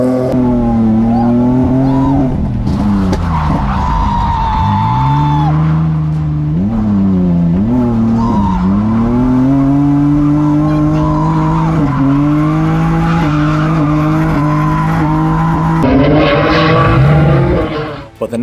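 Loud engine revving with long, wavering tire squeals as a BMW drift car drifts at a drift event, pitch rising and falling over and over, close and continuous.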